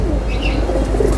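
Close, steady cooing from an old domestic pigeon, with a few light chirps over a low, continuous murmur and no voices.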